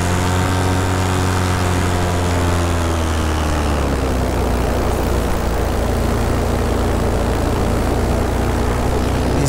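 A paramotor engine drones loudly and continuously in flight among rocks, its steady propeller tone shifting slightly in pitch over a constant wash of wind.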